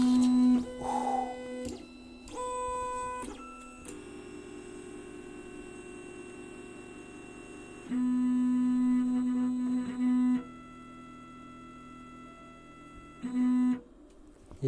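A Labists ET4 3D printer homes: its stepper motors whine and buzz in several distinct bursts and steady tones, with short quiet gaps between moves. The sound is close and fairly loud, and no one speaks.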